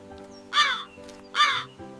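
A crow caws twice in a Kannada children's story, two loud harsh calls about a second apart, with no other sound beyond a faint steady background hum.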